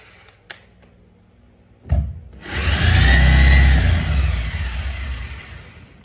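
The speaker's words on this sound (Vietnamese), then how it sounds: "Đây là lớp khoan gỗ này." An electric 220V rotary hammer switched to wood-drilling mode clicks a few times, then its motor spins up into a loud steady whirring whine that slowly eases off, running alone at close range.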